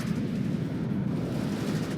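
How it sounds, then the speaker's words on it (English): Artillery explosions in the video game WARNO form a continuous loud, deep rumbling roar with no talk over it. "Artillery missed us, sadly."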